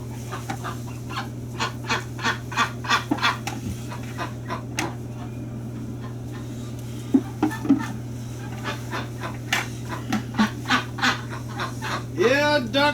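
Ducks quack repeatedly inside a barn during a freezing winter, a run of short bursts coming and going over a steady low mechanical hum, with a brief voice near the end.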